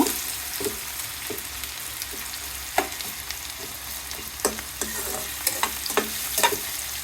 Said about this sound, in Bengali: পেঁয়াজগুলো বাদামি কালার করে ভেজে নিলাম